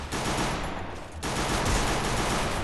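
Rapid gunfire in a Thai shooter game, a dense burst of loud shots that briefly thins out partway through before resuming just as heavily.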